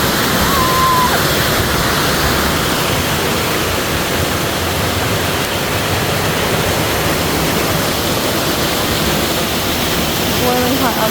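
A waterfall at Fifth Water Hot Springs in Utah roars as a loud, steady broadband rush of falling water, close by and continuous throughout, with a voice briefly heard over it.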